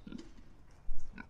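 A big pastured boar pig gives a few short, close, low grunts in quick succession.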